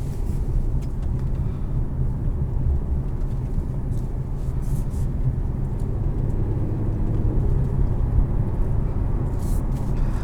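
A 2022 Infiniti Q60S Red Sport with its 3-liter twin-turbo V6 cruising, a steady low engine and road rumble from inside the cabin, even and unbroken throughout.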